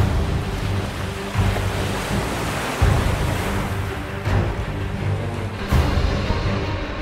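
Rough sea in bad weather batters a patrol boat on the Natuna Sea and Malacca Strait, heavy surf and wind roaring continuously and loudly with recurring thumps of waves striking the hull.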